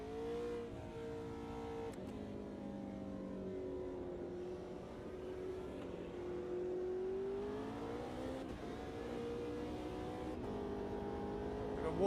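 Race car engine in the Automobilista video game on the Nordschleife, a steady loud harmonic drone rising and falling with revs and gear changes throughout, with no talk.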